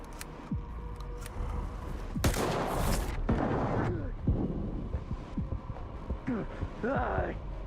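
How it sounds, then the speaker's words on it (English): Gunfire in the video game S.T.A.L.K.E.R. 2 comes as a few sharp, loud bursts over a low droning game ambience, with softer thuds and clatter between the shots. "Go ahead and get a few shots off there."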